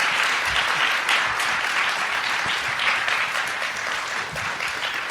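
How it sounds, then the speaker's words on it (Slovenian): An audience at a live stage show applauds loudly and steadily, a dense crowd of clapping hands filling the whole stretch without talk. "Dajmo en aplavz za njega, poprosim."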